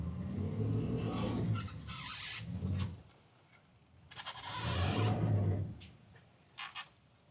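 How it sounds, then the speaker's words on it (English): A boat engine revs up in two loud, rumbling surges close by while the boat is backed off its trailer bunks, dropping to a low idle between them, with no voices. "Gonna apply some throttle to get it off the bunks."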